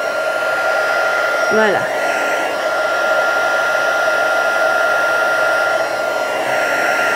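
A heat gun blows steadily on a handmade Christmas card as a loud, continuous close-up whoosh, with a voice briefly speaking once over it.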